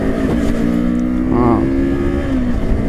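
Morbidelli T252X 250cc twin inline-cylinder motorcycle engine pulling under acceleration, a steady droning tone that rises in pitch, close and loud, mixed with wind and road noise.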